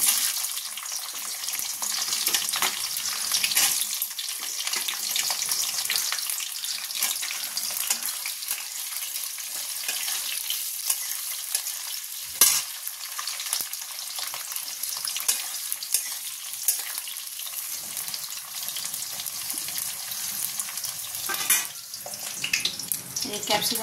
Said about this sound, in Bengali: এবার এই ক্যাপসিকামগুলো ঠিক একইভাবে হালকা করে ভেজে তুলে নেব।